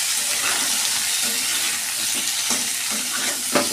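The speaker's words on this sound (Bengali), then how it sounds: "একটু সাঁতলে নেব বা একটু ভেজে নেব।" Sautéing in a pan with turmeric and salt, a loud, dense sizzle with a few stirring scrapes and a sharp scrape near the end.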